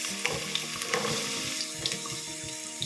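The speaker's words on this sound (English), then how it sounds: "So we will start by heating oil in a pot. Then we will add our onions" Onions frying in hot oil in a pot for a coconut bean curry make a quiet, even sizzle with faint crackles and light stirring, alongside a soft tonal hum.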